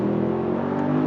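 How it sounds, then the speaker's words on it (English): Mercedes-AMG SL63 engine revving up close, a loud continuous rumble with strong low harmonics held steady through a brief burst. "Oh, this car sounds so good."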